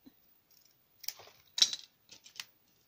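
Scissors snip through paper in a few short, crisp cuts, close and quiet, with brief pauses between bursts.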